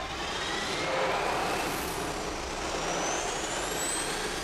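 Spacecraft engines roar in the film Interstellar, a loud, steady broadband rumble with a rising whine that holds for the whole stretch, no voices over it.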